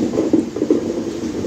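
Rumbling and rhythmic clattering from a train heard aboard an MMTS local train in Hyderabad as the Lingampalli–Kakinada Town express crosses, a loud steady low roar with a few dull thumps, no voices.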